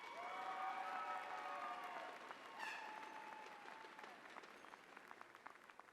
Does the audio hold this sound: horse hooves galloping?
no